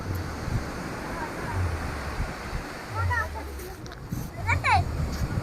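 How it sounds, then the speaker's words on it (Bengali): Steady rushing surf of sea waves breaking at Digha beach fills the background while people talk close by and a brief bright chirpy call rises above the roar. "দাঁড়াও ঢেউটা আসছে"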